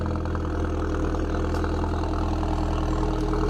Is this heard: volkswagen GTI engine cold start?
yes